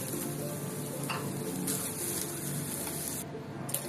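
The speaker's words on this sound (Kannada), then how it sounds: "ರೋಸ್ಟ್ ಆಗ್ತಿದ್ದಾಗೆ ಇದಕ್ಕೆ ನಾನು ಟೊಮ್ಯಾಟೊ ಸೇರಿಸ್ಕೊಳ್ತಾ ಇದ್ದೀನಿ." Garlic, ginger, grated coconut and tomato roasting in a pan for a Karnataka-style sprouts sambar, giving a steady close sizzle with faint stirring scrapes throughout, no talk.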